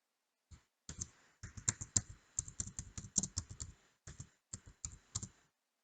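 Typing on a computer keyboard, bursts of quick, close key clicks with short pauses between runs, alone without talk.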